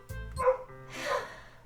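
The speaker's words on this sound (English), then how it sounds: "Just in time for the neighbor's dog to start barking like a complete..." A neighbor's dog barks a couple of times, muffled and somewhat distant, with a pause between barks.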